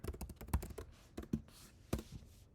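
Soft, quick keystrokes on a computer keyboard come in an uneven run of close, quiet clicks with short pauses between them and no talking.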